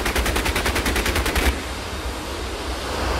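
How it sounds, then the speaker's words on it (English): Six .50 caliber machine guns on an F-86 Sabre in the DCS flight simulator fire a short rapid burst of about a second and a half, a dense close rattle, then fade into steady engine and wind roar. "That's them firing off a few rounds."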